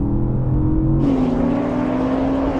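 A Porsche 911, Audi R8, Nissan GT-R Nismo and BMW M850i accelerate hard together in third gear from 50 mph, a loud sustained engine roar that climbs in pitch and surges brighter partway through.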